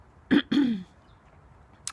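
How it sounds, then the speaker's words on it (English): Two short, rough throat-clearing bursts from a person still recovering from a cough, close and fairly loud, followed by near silence and a faint click at the end. "I feel self-conscious that I have to keep clearing my throat because I'm still recovering from this cough"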